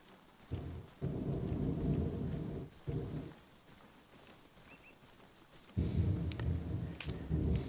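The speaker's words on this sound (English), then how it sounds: "There's a storm in game and there's a storm over my house." Rolling thunder with steady rain during a storm, heard as long low rumbling bursts that swell, fade out around the middle, then return loud near the end, with rain hiss throughout.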